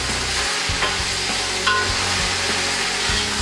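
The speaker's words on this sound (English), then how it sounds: "you give it a good stir" Meat and salt are stirred in a hot pan for pulao, with steady loud sizzling and frying, plus a few scraping knocks of the spoon against the pan bottom.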